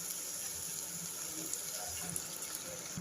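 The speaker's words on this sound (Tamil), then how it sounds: "அரைச்சி வச்ச புளி தண்ணியை விட்டுடலாம்." Tamarind water pours steadily into a pan, a soft continuous splashing and trickle at close range.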